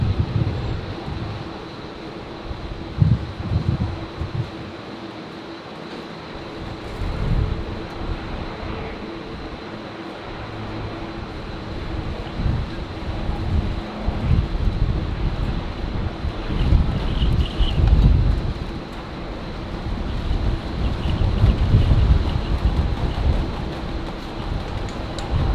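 Strong wind sweeps across Brisbane Airport in a continuous roaring rush with gusty surges and microphone buffeting, heard alone without voices.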